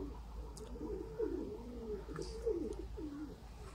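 A Rampuri pigeon coos in a soft, rolling series of throaty notes, repeating close by and fairly quiet, with light rustling around it.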